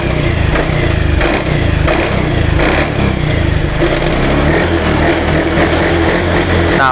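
A Honda Beat scooter engine, serviced for hesitation and lack of power, runs close and loud with a steady buzzing idle punctuated by several quick throttle blips and revs.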